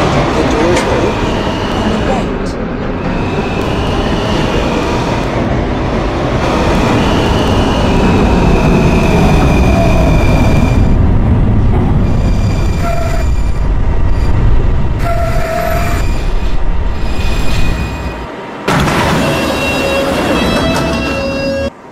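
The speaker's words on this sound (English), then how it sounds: "This is a 78th Street bound B train." A loud B subway train rumbles and squeals as it slows into 68th Street station, with steady mechanical roar, brake whines and door chimes, close and enveloping.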